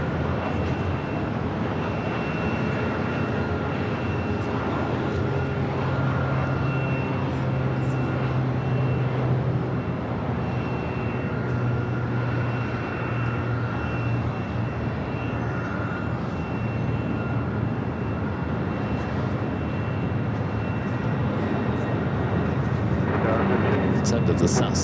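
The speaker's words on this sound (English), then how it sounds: "Sounds like a heavy taking off." Heavy jet airliner taking off at LAX airport, a loud sustained roar of engines filling the whole stretch, with a person talking over it.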